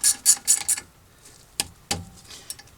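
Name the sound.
ratchet tightening brake caliper bolts on 2014 Hyundai Accent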